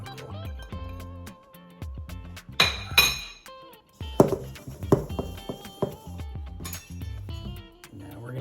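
Bright clinks and taps ring out as butter is cut into biscuit mix in a bowl for Dolly Parton-style biscuits, irregular metallic knocks against the bowl in uneven bursts with short pauses between.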